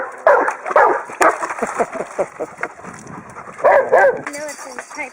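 A Ridgeback and St. Bernard mix puppy yips, whimpers and gives small barks near water, mixed in with people talking close by.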